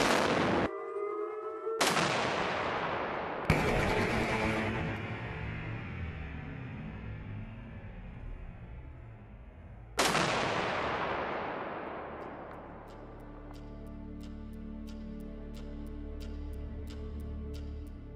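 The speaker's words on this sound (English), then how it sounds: "These guns can fire a non-explosive projectile over 100 nautical miles at speeds reaching Mach 6." Railgun firing solid non-explosive projectiles at extreme speed: several sharp, loud broadband blasts with long rumbling decay, followed by a sustained roar and a string of fainter repeated cracks.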